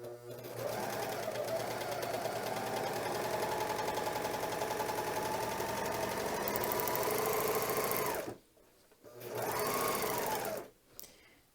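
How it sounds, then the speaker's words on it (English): A Janome Magnolia 7034D serger stitches quilter's cotton with a steady, quiet mechanical hum that runs for about eight seconds, stops, then resumes in a shorter burst. "I'm going to put it a little bit under the presser foot, put it down, and start to serge."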